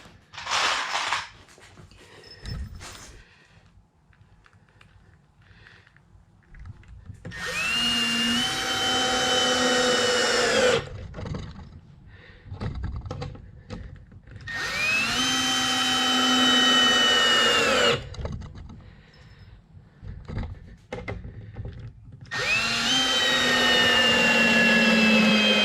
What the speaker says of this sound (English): now we're going to put screws there and there, there and there, and this side is done